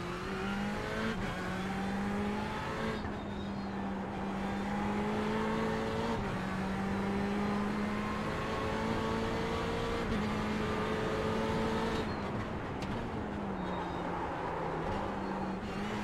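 A Ferrari 488 GTE race car engine in the iRacing simulation at Sebring drones steadily and loudly, with rising and falling revs through gear changes and no pause in the engine sound.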